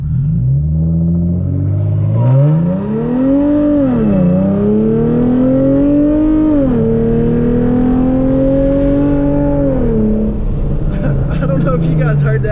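A Hyundai Genesis Coupe 3.8 launching hard with wheelspin, heard from inside: the engine revs climb and dip repeatedly as the tires spin, loud and close, settling into a steady high drone before easing off.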